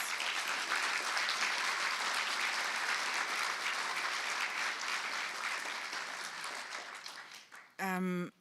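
Sustained audience applause in a lecture hall at an academic inaugural address, a dense steady wash of many hands that fades out near the end, followed by a brief voice.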